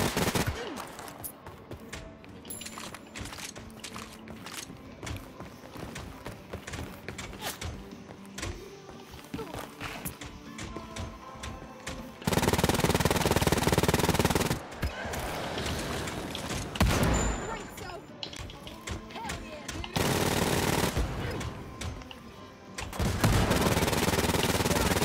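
Machine pistol gunfire in Wolfenstein: Youngblood comes in rapid bursts, some short and some sustained, with loud stretches of continuous automatic fire between quieter gaps.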